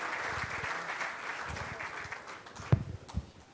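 An audience at a charity raffle event applauds a welcomed guest. The clapping is moderate and steady, sounds somewhat distant, and fades over a few seconds, with a couple of sharper knocks near the end.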